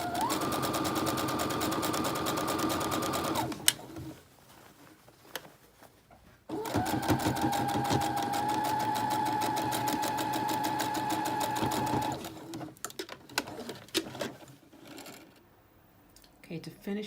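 A sewing machine stitches a sleeve in rapid, steady bursts, running hard for a few seconds, pausing, then running again longer before slowing to scattered short stitches near the end.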